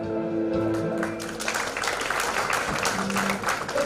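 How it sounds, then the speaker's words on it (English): Conference audience applause, moderately loud and continuous for a few seconds, with a dense clatter of many hands and faint background tones under it. "Please give her a big round of applause, everyone."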